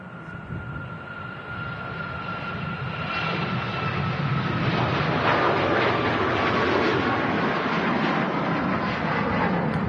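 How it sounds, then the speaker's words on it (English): TUI Boeing 737 MAX airliner departing Manchester Airport, its jet engine roar building steadily and then holding loud and broad from a distance for the whole stretch, with no talking. "TUI Max departing next."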